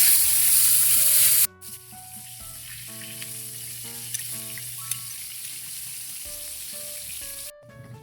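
Eggplant (talong) sizzles and fries steadily in a pan, with a brief loud hiss at the start and faint kitchen clatter over the continuous crackle.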